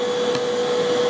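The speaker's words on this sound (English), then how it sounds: "So let me turn on the vacuum, see if it still goes." A vacuum cleaner runs off a portable power station and drones steadily and loudly at close range, its motor tone constant, with a brief faint click partway through and no talking.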